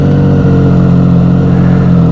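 A 2018 Triumph Street Triple RS motorcycle engine idles loudly and steadily up close, its exhaust giving a deep, continuous rumble throughout.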